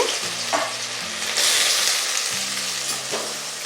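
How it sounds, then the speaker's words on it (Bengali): Chopped onion frying in hot mustard oil in a kadai, a steady bright sizzle that swells louder midway, with a low tonal hum drifting underneath. "তেল গরম হয়ে গেছে দেব পেঁয়াজ কুচি"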